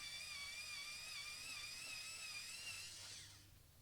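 An electric pencil sharpener whirs steadily at a high pitch while sharpening a pencil for a portrait on sanded paper, close and continuous before winding down near the end.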